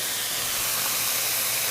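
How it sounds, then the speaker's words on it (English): Water splashed into a hot stir-fry pan of vegetables produces a loud, steady steaming hiss that fills the whole moment without pause. "I'm going to add just a splash of water, and this is going to help steam."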